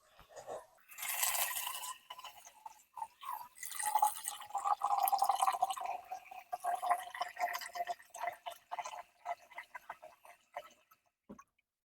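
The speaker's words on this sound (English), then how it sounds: "dispense some 6 cups of water from kitchen faucet" A kitchen faucet runs water into a cooking pot, a thin close stream with gurgling and irregular splashing that varies in strength, then tapers off into a few scattered drips.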